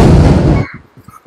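A Diwali firecracker explodes while held in the hand, a loud broadband blast lasting over half a second that cuts off abruptly, followed by a few faint, low thumps and rustles.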